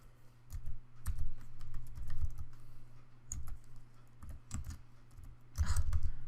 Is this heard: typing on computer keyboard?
yes